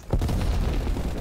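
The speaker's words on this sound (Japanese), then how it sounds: "もうどこいたら当たんねえんだよ砲撃" An artillery strike explodes in Call of Duty Black Ops Cold War, a deep booming blast that rumbles heavily right after a sharp onset and holds loud for about a second.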